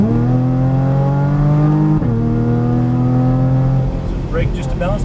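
Porsche Cayman GTS engine held at steady revs, then dropping sharply on a downshift before settling again as the car turns on a track, loud and close throughout.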